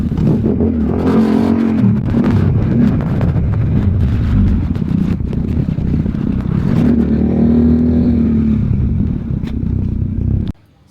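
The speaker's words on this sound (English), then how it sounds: "I feel like I'm riding a fucking kid's scooter" A small scooter ridden up a road in Bali, its little engine droning steadily at close range for most of the clip before cutting off abruptly near the end.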